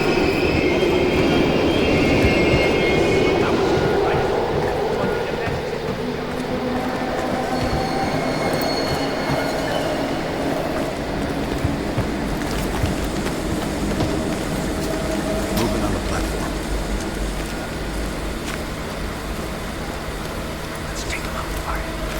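A train in a video game rumbles past for about twenty seconds, a steady rolling roar with wheel squeal.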